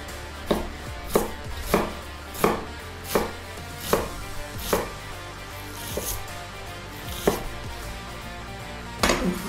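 Knife dicing an onion into large cubes on a cutting board, a steady series of sharp close chops, about a dozen strikes with short pauses between them, no talking.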